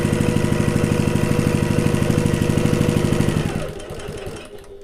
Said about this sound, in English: I'm going to back stitch at the start, and then I'm going to sew down to those double pins